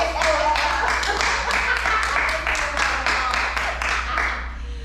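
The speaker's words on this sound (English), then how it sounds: "let's give a round of applause" A small group claps together for a few seconds during a podcast recording, the steady, fairly close patter of hands fading out at the end.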